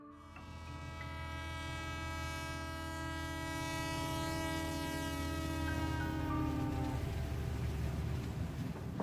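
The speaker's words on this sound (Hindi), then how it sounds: "ट्रेन तेजी से आगे बढ़ते हुए कल्पा स्टेशन की ओर जा रही थी।" A fast-moving train rumbles steadily with a sustained, droning horn-like tone layered over the rolling noise, the sound holding loud and continuous throughout.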